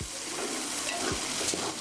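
Ginger-garlic paste, about half cooked, fries in a pot for egg biryani with a close, continuous sizzle and a quick stirring scrape.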